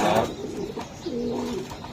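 A pair of pigeons at a breeder's loft, the hen settled on her eggs, gives soft, low cooing in a short rolling phrase, close by and alone with no talking.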